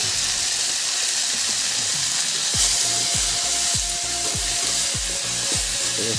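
Elephant apple frying in a pan with turmeric added, giving a steady loud sizzle with a rhythmic series of scraping stirs in the second half and no voices.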